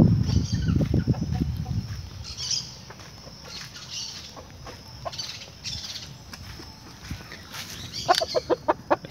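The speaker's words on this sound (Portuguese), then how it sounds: "Vou mostrar aqui mais dois galos." Roosters at a home flock cluck and call in short, fairly distant bursts, with a louder cluster of clucks near the start and a quick rhythmic series toward the end.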